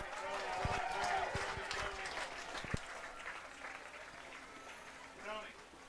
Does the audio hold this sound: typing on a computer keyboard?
no